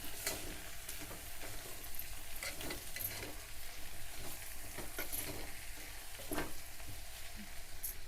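Tomatoes and turmeric powder being stirred together in a cooking pot: steady, close scraping and stirring noises with a faint sizzle running through the whole stretch, no voices.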